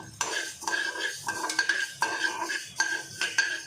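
A metal spoon stirs fenugreek seeds roasting in a pan, making rhythmic scraping and clinking strokes close up with faint sizzling beneath, no talking.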